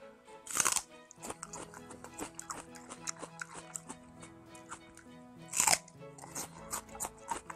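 Crisp, close crunching bites of celery in crab fried rice, with two loud snapping bites and steady wet chewing crunches between them, eaten for a breakfast mukbang with no talking.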